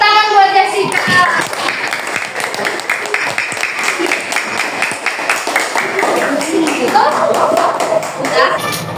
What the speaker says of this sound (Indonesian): Tepuk tangan buat Jessica